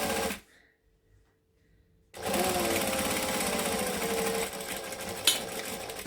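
A sewing machine back stitches along a folded fabric edge, starting after a brief near-silent pause and then running in one steady, close, rapid whirring burst for about four seconds.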